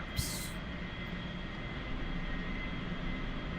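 An A-4E jet in DCS World produces a steady, broad engine roar with a faint high whine, constant and close throughout, preceded by a brief hissing burst at the start.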